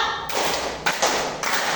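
Classroom students clap together in a few bursts of group hand clapping, with dense, noisy claps marking a loose rhythm over a constant room wash.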